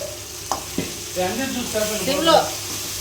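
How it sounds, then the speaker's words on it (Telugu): Biryani masala and yogurt fry in a pressure cooker with a low, continuous sizzle and a couple of sharp knocks, while a voice talks over the cooking. "సిమ్లో పెట్టి ఫ్రై చేయాలి"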